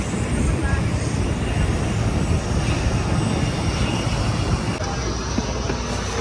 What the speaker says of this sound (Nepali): बुद्ध एयरको अलिकति डिले भयो प्लेन त्यही हो